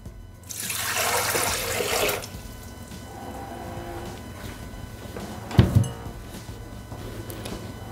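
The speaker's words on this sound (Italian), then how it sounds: "Iniziamo la ricetta mettendo all'interno del boccale l'acqua" Water pours into a Thermomix mixing bowl in a steady splashing stream for a couple of seconds, then thins to a faint trickle, followed by a brief knock.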